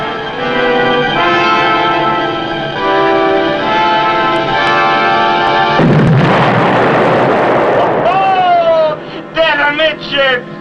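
A torpedo explosion strikes a ship amidships in a 1957 submarine war film: a sudden broad roaring blast bursts in around the sixth second, replacing a music-backed scene, then rumbles out as sharp sounds and tonal effects follow.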